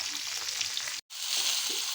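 Bata fish frying in hot oil, a dense steady sizzle that cuts out completely for a moment before the crackling surges back, close and even.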